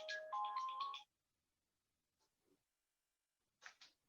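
A phone ringtone plays during an online lecture, a short melodic electronic tune that stops abruptly after about a second, followed by near silence and a couple of faint, brief electronic blips.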